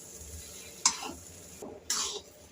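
Jaggery semolina sheera mixed with cream in a pan, giving two short soft scraping stirs against the pan amid quiet kitchen background, no talking.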